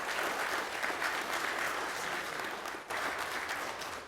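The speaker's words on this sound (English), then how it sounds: "let's give a round of applause to Judy's Place and Judy Patton." An audience claps steadily at a press conference in Pike County, a dense, even wash of many hands that holds its level throughout with only a brief dip partway through.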